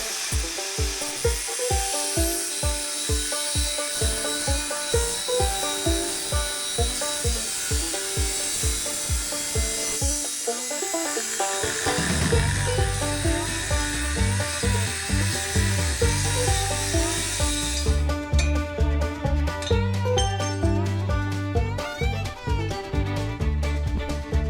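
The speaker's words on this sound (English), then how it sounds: "now I'll go ahead and take my cutoff wheel and chop these at that 45 line" A cutoff wheel chops metal pieces along a 45-degree line for a homemade carnival ride frame, giving a high, steady grinding whine that runs loud and continuous with no talk.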